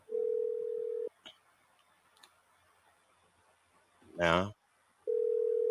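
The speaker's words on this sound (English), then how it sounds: "got to answer the phone now" A phone tone sounds for an incoming call: a steady electronic tone for about a second, a pause with a brief spoken word, then the same tone returning, close and clear.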